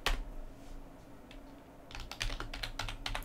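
Quick keystrokes typing a sudo apt update command on a computer keyboard while setting up Ubuntu Server, faint at first, then a dense burst of clicks in the second half, alone.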